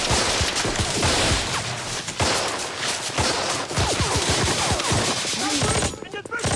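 Dense battle gunfire from the World War II series Band of Brothers, rapid machine-gun bursts and rifle shots crackling continuously and loudly for several seconds, with faint voices underneath.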